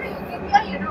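Underground MRT train running beneath Kuala Lumpur near Pasar Seni, a low, steady rumble and hum of the carriages in motion with a brief higher squeal midway, under a murmur of background voices.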